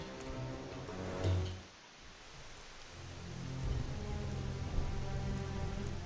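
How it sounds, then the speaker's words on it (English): Steady rain pours in the video game Xenoblade Chronicles X, a dense continuous hiss with a brief swell and dip partway through, rising again and holding evenly with no talk. "Oh, it's raining."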